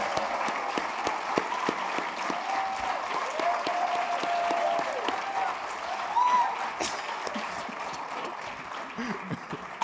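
Conference audience applauding steadily for about ten seconds, a dense wash of clapping with a brief swell near the middle, recorded from within a large hall at an African philanthropy forum.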